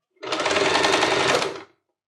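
A sewing machine runs in one steady burst of about a second and a half, stitching bias binding onto a fabric mixer cover, close and loud with a smooth, rapid needle whir.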